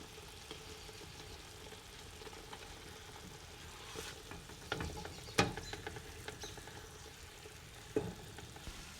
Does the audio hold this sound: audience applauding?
no